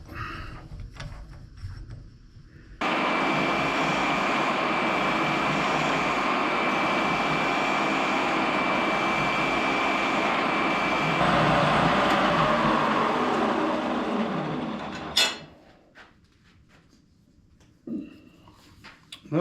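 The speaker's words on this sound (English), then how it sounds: "I'm just going to go ahead and sand this out. So I'm starting with a really coarse 60 grit drum." A drum sander fitted with a coarse 60-grit drum grinds into a wooden serving tray, a steady loud whirring roar that starts abruptly, holds for about twelve seconds, then winds down into near quiet.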